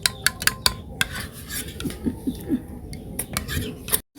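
Eggs being beaten in a bowl with a utensil for vegetable egg soup, a quick run of sharp clinks against the bowl, then softer rhythmic whisking and scraping, close and fairly loud, ending in a brief pause.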